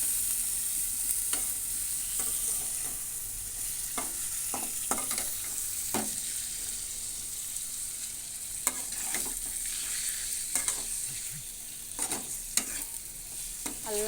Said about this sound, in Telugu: చూడండి, చికెన్ కూడా వేస్తున్నాను దీంట్లో.